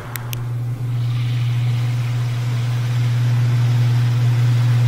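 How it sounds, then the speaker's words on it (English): A thin twin washing machine, old but working after repair of an off-center tub, runs its spin cycle: a loud, steady close motor hum that holds throughout after a couple of brief clicks at the start. "Let's try the spin cycle."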